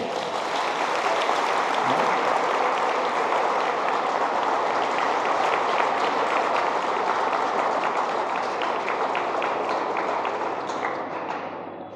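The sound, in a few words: students' applause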